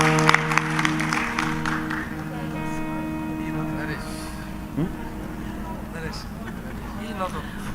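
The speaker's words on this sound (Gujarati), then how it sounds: "આ બાળેટાઓને 2 ને વધાવો તાળીઓથી." An audience at a folk literature stage programme claps in a short burst of applause at the start that fades quickly, followed by a speaker talking over a sustained musical drone.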